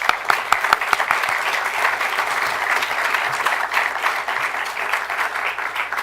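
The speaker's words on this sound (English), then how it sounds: "Let's give them one more round of applause." A hall audience at a master's jazz commencement applauds the graduating students, a sustained even wash of clapping with a few sharper claps at the start.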